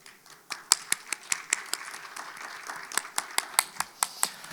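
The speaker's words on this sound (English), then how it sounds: "Please give them a warm round of applause." A conference audience applauds a plenary panel on renewables and nuclear power, a moderate round of distinct, fairly sparse claps that builds briefly and then tapers off.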